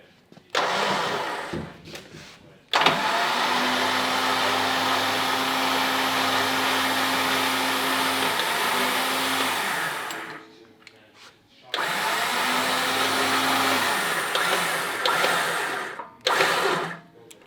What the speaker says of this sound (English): then we'll winch this line in